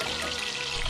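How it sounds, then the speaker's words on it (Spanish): Bacon frying in a pan gives a dense, continuous crackling sizzle that is close and steady throughout the short moment. "Mientras vamos cocinando estos baconcitos aquí"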